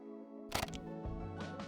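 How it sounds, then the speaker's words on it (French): A Canon EOS R6 Mark II fires its shutter in a few quick, sharp clicks close to the mic, over a quiet bed of steady background tones. "Le bruit du déclencheur"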